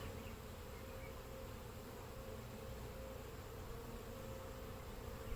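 Honey bees swarming thickly inside a hive full of drones and capped brood, producing a steady, dense, close buzzing drone that continues without a break.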